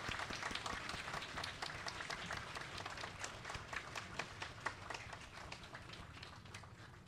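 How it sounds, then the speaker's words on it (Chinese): An audience breaks into sustained applause at a temple fire-offering ceremony, a dense crowd of many hands clapping steadily with no gaps. "让我们以热烈的掌声感谢师尊的赐福"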